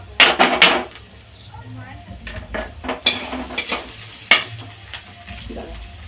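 Cumin seeds go into hot oil in a home kitchen pan, giving soft frying crackle and sizzle under loud clanks of a metal utensil against the pot, with a few bursts of stirring and scraping.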